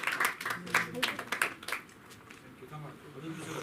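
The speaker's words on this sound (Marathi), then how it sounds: "टाळ्या वाजवून त्यांचं स्वागत करूया." An audience claps to welcome the launch of a poetry collection at an anniversary event for a Marathi poetry forum. Scattered claps form a ragged burst that soon thins out, with a voice speaking over and after it.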